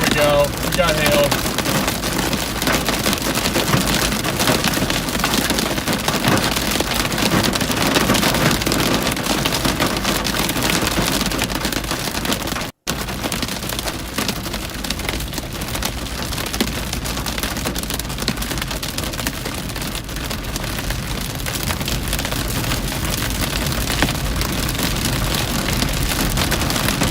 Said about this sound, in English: Little pea-sized hail, nothing crazy.